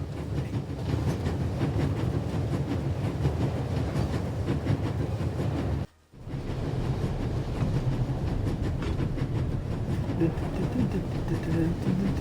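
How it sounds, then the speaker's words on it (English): Train rolling along in The Raven Remastered, a steady loud rumble with rhythmic clickety-clack of the wheels, cut off by a brief silence midway before resuming. "There's nothing quite like traveling on a train."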